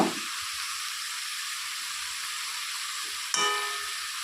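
Two chopped tomatoes hit a hot pan for chicken curry and fry with a steady, close sizzling hiss that runs throughout, with a brief clatter partway through as the pan is stirred.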